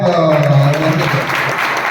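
An audience at a Revenue Day celebration applauds to honor a madam, a loud, steady wash of clapping over a low hum of voices and tones that carries through the whole stretch.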